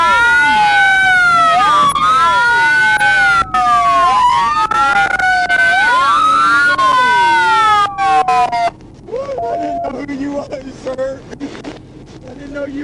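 A police car siren wails loudly and up close in sweeping rising and falling tones for about eight seconds, then cuts off, leaving muffled voices and traffic noise.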